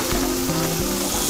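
Veal sizzling steadily in a pan, a close, continuous fry hiss with a few faint scraping knocks of stirring and no talking.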